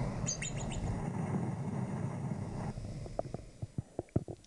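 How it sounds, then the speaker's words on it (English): A groundhog giving its whistling call: a few high, bird-like chirps at the start over a steady low rumble, followed by several short sharp sounds toward the end. "So a groundhog is really a whistle pig in disguise."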